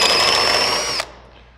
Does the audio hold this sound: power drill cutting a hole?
yes